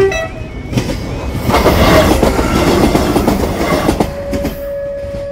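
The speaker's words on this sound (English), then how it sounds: "we see this unusual formation of a 6-carriage Class 158 departing Bewley" A six-carriage Class 158 diesel train departs a station in the north of Scotland, rumbling past close by with rattling wheels and a rising roar, and a steady tonal whine lingers as it moves off.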